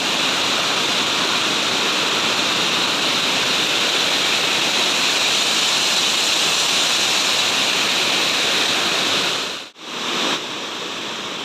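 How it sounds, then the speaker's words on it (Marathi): Several small waterfalls spill down a hillside gorge in a steady, loud rush of flowing water that holds for about ten seconds, then briefly cuts out and returns slightly quieter. "छोटे छोटे धबधबे आहेत"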